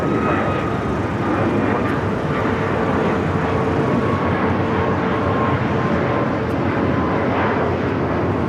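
An Alaska Airlines Boeing 737 in Seattle Mariners livery roars steadily at an airport, its broad jet-engine rumble continuous and fairly loud with no talk over it.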